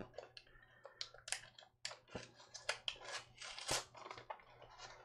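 Scissors snip and click through the foil of a Pokémon card pack, a quick run of sharp, irregular crinkling clicks and snips heard close and quiet, with no talking.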